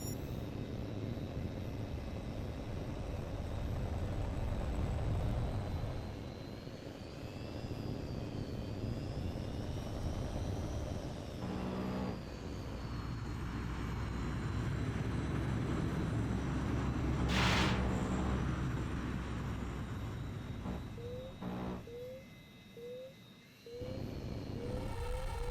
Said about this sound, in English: There's an H.A.W.X plane flying a basic patrol circuit in the training area.